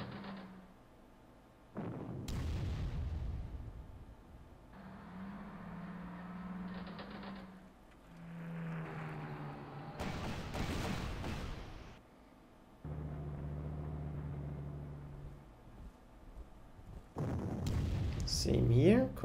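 Artillery fire in the strategy game Panzer Corps, several sharp broadband booms going off at intervals among game sounds, with a droning musical tone between shots.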